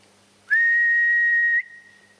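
A single clear, steady human whistle, a sustained high note held for about a second, is given as a call to spirits during a ghost hunt at Madame Tussauds, standing out loud against a quiet, hushed room.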